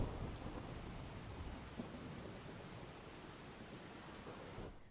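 Heavy rain pours steadily in Dakor, Kheda, with thunder mixed in, a dense, continuous roar of downpour at even loudness throughout.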